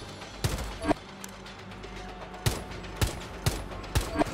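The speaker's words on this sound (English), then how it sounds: "The Type 89 is an assault rifle, but also fires 3-round burst or semi-auto." Type 89 assault rifle firing in Rainbow Six Siege, with sharp gunshots at irregular intervals, several in quick succession near the end, over a low steady game background.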